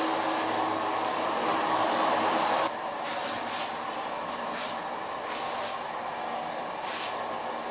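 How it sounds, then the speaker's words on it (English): A hair dryer blows hair dry while a brush works through it, making a loud, steady, close rushing whoosh that cuts off sharply partway through and leaves quieter brushing and faint rustles. "now I can blow dry your hair in a very light brush to start with."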